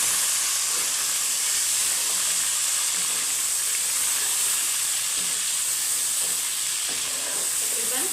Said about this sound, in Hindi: अब हम इसको अच्छे से भूनेंगे।